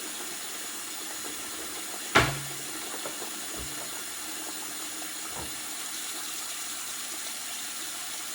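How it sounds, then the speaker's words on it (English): Warm water runs steadily from a tap into a sink while eggs are washed, a soft continuous hiss broken by a sharp knock and a couple of faint clunks. "I'm just gonna let this water run up here."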